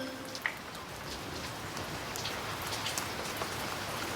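Steady rain falling outdoors, a soft continuous hiss of drops on surfaces with a few sharper individual splats, fairly quiet and unbroken, with no voices.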